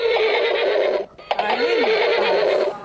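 A loud, close horse whinny sounds from an alarm clock, a long shaky neigh that breaks off briefly and then carries on.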